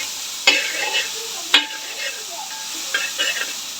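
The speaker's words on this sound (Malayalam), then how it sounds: "ഇതൊന്ന് വഴറ്റിയെടുക്കാമേ." Vegetables with coconut and tomatoes sautéing in a hot pan, a steady sizzle with a few sharp spatula scrapes and stirring clatters, close and fairly loud.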